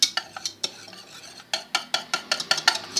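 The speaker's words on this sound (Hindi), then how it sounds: "कुछ देर फेंटूँगी मैं इसको" Ghee being whisked in a bowl for zeera biscuits, a quick series of close scraping clicks and taps of the whisk against the bowl in an uneven rhythm, with no voices.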